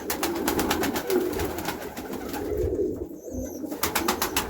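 Pigeons, both young and grown birds, coo close by in soft, continuous rolling calls with no one speaking.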